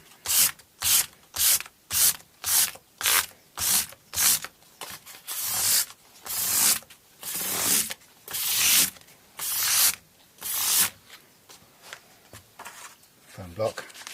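Sandpaper on a foam block is rubbed over a Fender Stratocaster guitar made in Mexico, making rhythmic raspy back-and-forth strokes, about two per second, close and distinct, slowing into longer passes later.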